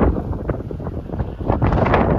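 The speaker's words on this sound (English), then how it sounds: "dry wind at me" Dry wind blowing outdoors near a creek, a steady loud rushing buffet against the microphone throughout.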